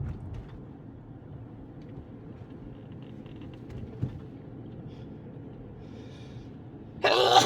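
A single sudden sneeze bursts out loudly at the very end, over the steady low hum of a car driving through the streets of McKeesport, Pennsylvania.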